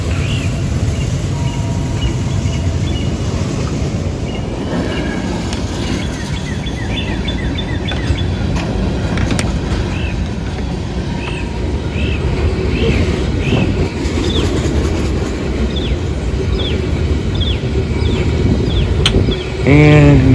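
CSX freight train M415 passing with a steady loud rumble and clatter of rail cars, distant horn-like tones and chirps above, a brief squeal near the end, no talking.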